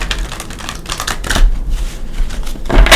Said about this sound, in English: Give him a couple shuffles.